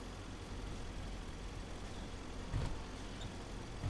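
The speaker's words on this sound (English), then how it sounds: "you certainly feel the weight of it on the tractor pulling this big trailer" Tractor engine pulling a heavy big trailer in Agricultural Simulator 2011, a steady low droning hum that runs continuously at moderate level with a slight bump near the end.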